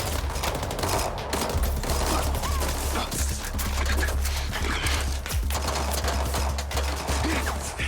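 Sustained gunfire in the MindsEye action game, a loud, rapid fusillade of overlapping shots that barely lets up, over a deep rumbling background, with occasional voices mixed in.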